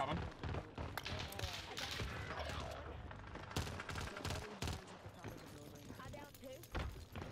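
Gunfire in Call of Duty Vanguard Warzone on Rebirth Island, including the C58 rifle: rapid bursts and scattered single shots with thuds, loud and close, over a busy game mix with some talk.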